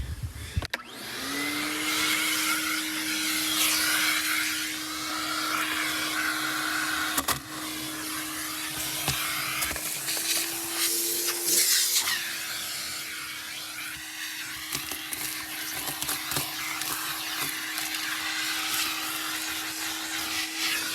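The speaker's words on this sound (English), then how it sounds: "I'm just gonna vacuum some of this stuff up real quick" A vacuum cleaner runs steadily with a constant motor whine, its pitch shifting slightly as the nozzle sucks up debris inside a 1984 Pontiac Fiero.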